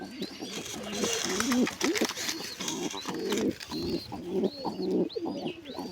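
Grey pigeons coo in soft, repeated throaty phrases close by, with a steady murmur of background noise and occasional bird chirps.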